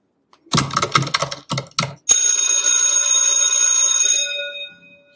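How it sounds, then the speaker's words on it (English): Several quick bursts of keyboard typing, then a single bell strikes and rings out with a long, bright, slowly fading tone. "You hear the bell ring, you hear the typing"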